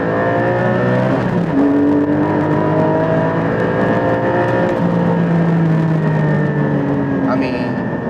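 Porsche 718 GT4 engine revved hard toward 8,000 RPM after a downshift with auto blip, a loud, steady, close-up howl whose pitch climbs and falls across the run, with a faint voice in the background.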